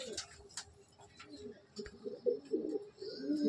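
A pigeon with fine feet coos in low repeated murmurs, growing louder toward the end, with faint ticking and other bird sounds around it.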